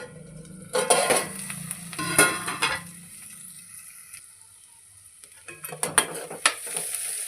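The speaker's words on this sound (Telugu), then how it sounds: "ఇప్పుడు వీటిని ఇలా కలుపుకొని సిమ్లో పెట్టి గోల్డెన్ కలర్ వరకు ఫ్రై చేసుకొని ఉండాలి." Onions stirred in a pan over low heat until golden, with several bursts of scraping stir strokes and a soft frying sizzle under them, a quieter pause midway, then more stirring toward the end.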